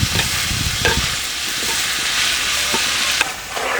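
Onions and green chillies fry loudly in a pan, a dense close sizzle with occasional scraping strokes of a stirring spoon throughout.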